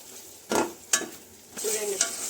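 Cauliflower curry frying in oil in a pan, with a low sizzle broken by three or four quick scrapes and stirs of a spoon.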